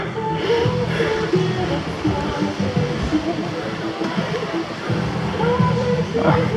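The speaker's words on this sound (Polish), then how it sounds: "No i deszcz pada" A heavy rain shower pours down at an outdoor housing-cooperative picnic with inflatable play equipment, making a steady dense hiss throughout while people talk nearby.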